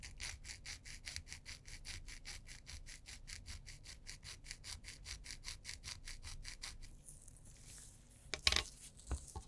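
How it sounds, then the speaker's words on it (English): A fine file scrapes off a leftover pin from a Seiko watch dial in rapid, even back-and-forth strokes, soft and close, then stops and gives way to a couple of small clicks and handling taps. "I do need to file off any leftover pin from the dial"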